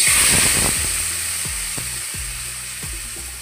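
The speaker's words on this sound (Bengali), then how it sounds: "এখন আমি মুগ ডালের যে বাটি চচ্চড়িটা মেখে রেখেছিলাম সেটা দিয়ে দিব" A moong dal mixture drops into a hot pan and fries with a loud, close, hissing sizzle that gradually eases, broken by a few soft knocks of a utensil.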